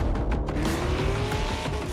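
Car engine roaring with squealing tires from a video game trailer, a steady loud drone with a rising whine running under it, no talking.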